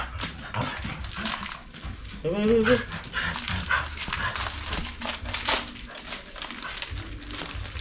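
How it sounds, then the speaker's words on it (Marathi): Dogs yelp and whine close by in short excited bursts at a Ratnagiri beach, mixed with people chattering over them. "ते बघा डॉग"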